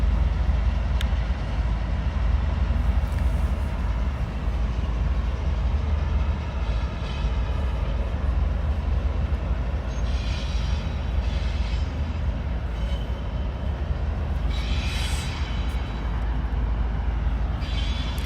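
A GE GEVO diesel locomotive passes at Roseville with a loud, continuous low rumble of engine and rolling rail cars, steady throughout with faint squeals and clatter on top.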